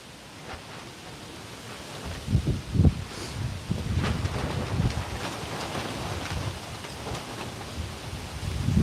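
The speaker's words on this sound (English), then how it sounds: "There's a lot of wind happening." Wind blows across an outdoor golf range, a broad rushing roar with gusty buffeting bursts against the microphone that strengthen toward the end.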